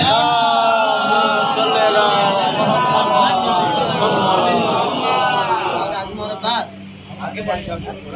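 A congregation at a Muharram majlis recites salawat together in unison, a dense, loud wash of many voices chanting as one that keeps up throughout, thinning and breaking up toward the end.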